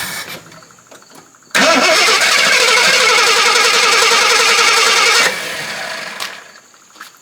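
A 52-year-old vintage Jeep Wagoneer with an uncleaned carburetor and an old tune-up cranks and fires, running loud and rough with a rapid, pulsing engine note for about four seconds before dropping back to quieter background noise.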